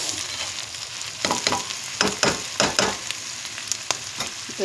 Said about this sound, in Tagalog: i-fry muna natin siya sa oil